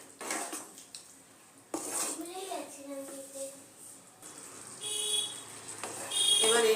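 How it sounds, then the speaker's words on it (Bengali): A metal lid comes off a cooking pot of raw jackfruit and prawn curry, giving a few close clinks and scrapes of metal cookware, with kitchen clatter and faint background voices around it. "ঢাকনাটা আমি সরিয়ে নেব।"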